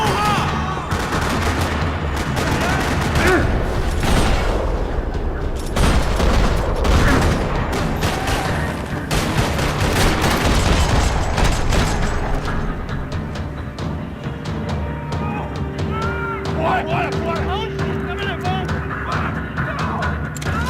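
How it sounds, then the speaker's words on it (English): Gunfire fills a parking lot in the video game Max Payne 3: loud, rattling bursts of automatic fire and shots, dense at first, then thinning into sparser cracks with faint voices and tonal calls. "Another parking lot rattling with gunfire."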